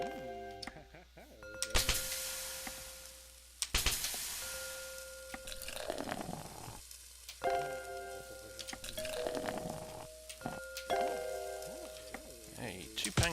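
Pancakes frying in the cooking game Cook, Serve, Delicious, with soft recurring sizzles among game chimes, tones and clicks, moderately loud and steady for the whole stretch, with no talk over them.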